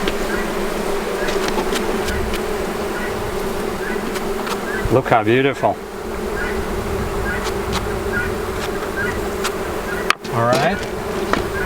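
Honey bees swarm around hive frames during a honey harvest, a dense, steady buzz close by with individual bees droning past the microphone, while a person speaks briefly over the hum.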